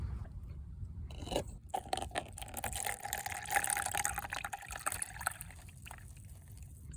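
Liquid being strained out of a homemade garden slug trap, with close trickling and pouring, some scraping and sloshing, fairly quiet and uneven, with no talk.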